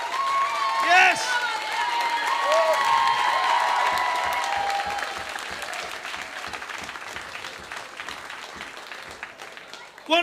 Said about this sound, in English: Big round of applause for your winner.